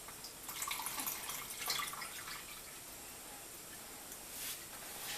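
Water is poured into a small dish that cools a hit-and-miss model engine, a steady, soft hiss and trickle close by with a few brighter splashes.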